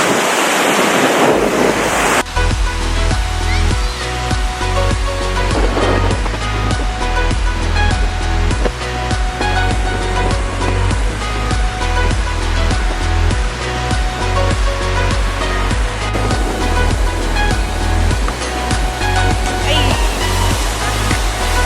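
Strong wind buffets the microphone at a cold, windy resort beach while waves surge and break nearby, a loud continuous roar of surf and gusts throughout with no voices.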